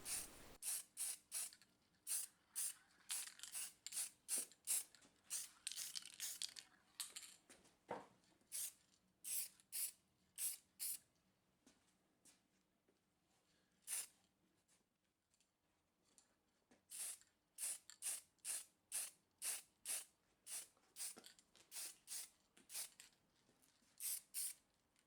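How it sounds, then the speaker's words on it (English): Short hissing bursts from an aerosol can spraying matte black paint onto a small air temperature gauge part for a Honda NC750X motorcycle. The bursts come in irregular clusters, then a quiet gap, then a steady run of evenly spaced puffs. "so I'm going to spray it with some matte black"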